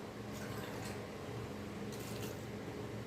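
Water for cooking pours into a pot as a steady, even gush of liquid that fills the short stretch without any talking.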